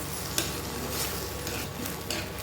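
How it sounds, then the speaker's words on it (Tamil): Curry leaves stirred into sizzling fried masala in a pan, a close steady sizzle broken by a few quick scraping stirs of the spatula. "இப்போ லாஸ்ட்டாக ஒரு கொத்து கருவேப்பிலையும் போட்டு மிக்ஸ் பண்ணி விட்டுறேன்"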